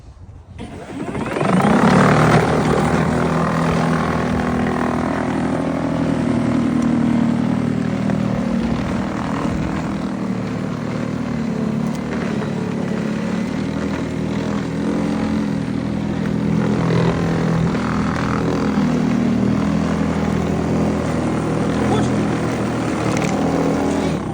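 A Westinghouse 48-volt battery-powered push snow blower runs steadily for the whole stretch, a loud continuous electric whir and churning hum pushed through snow toward an alley, with no break in the drone.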